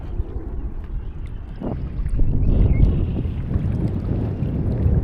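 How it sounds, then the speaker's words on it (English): Wind gusts at an outdoor quarry, a steady low rumble of buffeting that swells and grows stronger partway through, with no talk. "It's wind. Seems like it's picking up."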